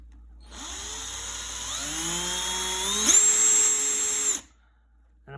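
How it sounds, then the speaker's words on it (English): A regular power drill with a standard bit bores a hole into a small part of a 1/350 scale RMS Lusitania ship model, its whine rising in pitch as the motor speeds up, close and steady, then cutting off. "what I'm doing is drilling a hole"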